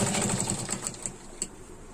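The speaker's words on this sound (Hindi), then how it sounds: "अब यहाँ पर हम सिलाई लगाएंगे।" A sewing machine stitches a lehenga, a fast even mechanical chatter running close and steady, slowing slightly toward the end.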